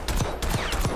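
Gunshots in the Black Ops 6 shooter during a single-bullet damage test: three sharp, loud reports spaced evenly across about a second, each with a short ringing tail.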